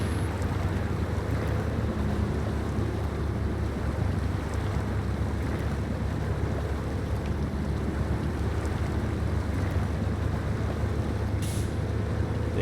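A truck in SnowRunner pushing through deep creek water, with a continuous rushing, churning wash and low engine rumble at steady loudness throughout.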